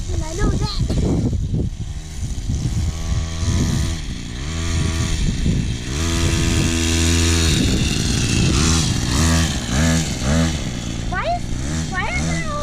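Small mini bike engine running and revving up and down, loud and buzzy like a small two-stroke, with people talking over it.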